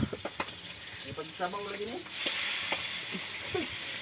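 Milkfish (bangus) frying in hot oil, giving a steady sizzle that swells louder midway, with clatter nearby and a few short voices in the background.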